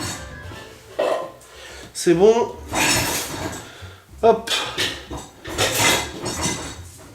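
Dishes, cutlery and pots clink and knock in a home kitchen as a dishwasher is emptied and refilled, close and fairly loud in scattered bursts, with a person speaking in between.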